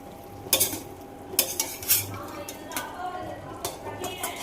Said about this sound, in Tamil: அதை நல்லா கிளறி விட்டதுக்கப்புறமா ஒரு 1 மினிட் அப்படி கிளறி விடுங்க